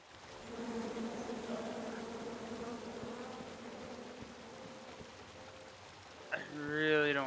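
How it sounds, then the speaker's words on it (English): Bees drone in a continuous, moderately quiet hum in the video game King's Quest, holding steady for several seconds before a short burst of voice-like sound at the end. "come at me, bees!"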